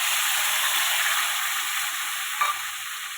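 Spice pastes of cumin, ginger and coriander with garam masala and tomato paste sauté in a pan, giving a steady broad sizzle that fades slightly, with a brief stir scrape near the end.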